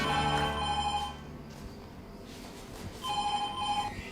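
A telephone rings with two bursts of electronic trilling separated by a short gap, fairly clear over a low background hum.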